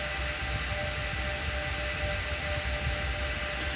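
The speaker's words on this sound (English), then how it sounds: "Those things sound like a mixture of jet engines or sirens." A steady, loud roar of rack server fans with a high whining tone running through it, constant and unbroken throughout.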